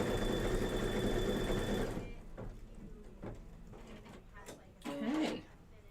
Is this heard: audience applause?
no